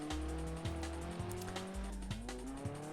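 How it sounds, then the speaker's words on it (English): A car on a winding touge road squeals its front tyres through corners under understeer while the engine revs rise and drop with gear shifts, a loud continuous mix of engine drone and tyre screech with no speech. "The speed through the corners are very good, but I reckon those front tyres are getting cooked by understeer"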